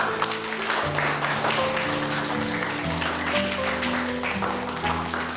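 Classroom applause for teacher Mehmet after a lesson, a steady, dense clapping from a group of children lasting throughout, with sustained tonal music underneath.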